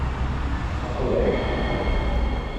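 A light rail train in Hawaii rolls along steadily, a continuous low rumble with faint rail noise, no voices, loud and close from inside the car.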